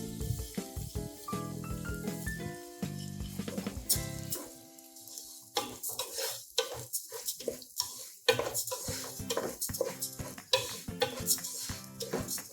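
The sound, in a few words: stirring and frying kaima rice for ghee rice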